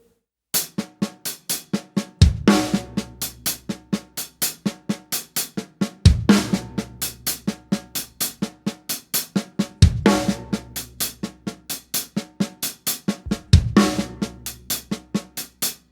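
A steady inverted doubles drum groove: rapid even hi-hat strokes throughout with a punchy bass drum and backbeat hits recurring in a repeating bar pattern, no voices.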